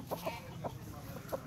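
A pet rooster gives several short, soft clucks in quick succession, close by and fairly quiet, with no voices over it.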